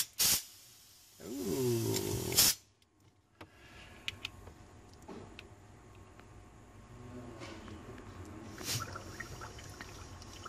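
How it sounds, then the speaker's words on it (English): A compressed air gun blows into a vent on a Nanos, giving two loud, close bursts of hissing air, followed by quieter ticks and faint rustling. "Now comes the fun part. With the air gun."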